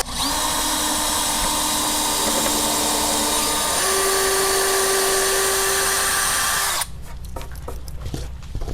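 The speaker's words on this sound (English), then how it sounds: "what I'm going to do is pre-drill some holes" A power drill whines continuously for several seconds, its pitch shifting slightly as it pre-drills holes in wood, then cuts off, leaving faint clatter and handling noises.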